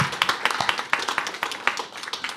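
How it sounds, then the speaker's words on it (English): A small group at a school health advisory meeting gives a short round of applause, scattered, uneven hand claps close by that fade after a couple of seconds. "we would like to do a little round of applause for Alex"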